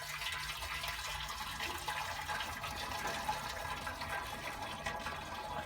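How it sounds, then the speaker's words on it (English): Cold water swills and sloshes continuously inside a rusty fuel tank, a steady hissing rush that stays at an even level for several seconds. "and then I shall swill it out with some cold water."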